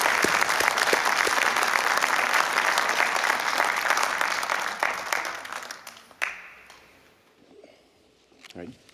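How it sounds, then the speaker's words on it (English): A crowd at a Memorial Day service applauds loudly for several seconds before the clapping thins out and fades, leaving a few stray claps and faint room noise. "I wonder if you would welcome with a round of applause our special speaker, Major Jeremiah Engelman."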